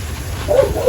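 Dogs bark nearby at home during orchid watering, with a couple of short barks rising over a low background rumble.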